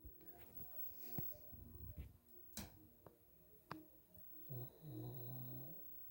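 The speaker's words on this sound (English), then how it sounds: "My dog fell asleep. He's snoring." A sleeping dog snores quietly in a room, a few soft snorts and breaths spread through the stretch, with faint ticking and small thumps around them and a longer, louder rumbling snore near the end.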